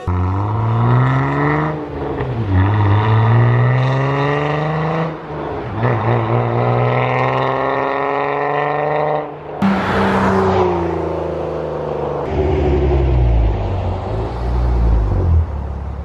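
A Jeep Wrangler JKU with an aftermarket dual-pipe exhaust idles and revs in long, loud swells, its deep engine note rising and falling through several throttle blips close to the microphone.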